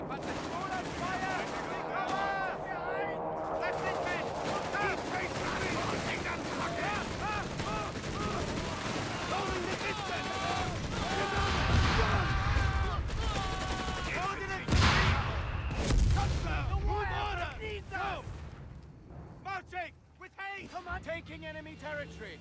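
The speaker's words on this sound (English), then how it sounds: "The Panzer Grenadiers fire!" Panzer Grenadier squads open fire in a Company of Heroes 3 Afrika Korps battle, rattling volleys of rifle and machine-gun shots crackling under voiced unit callouts and background music, with sharper bursts midway.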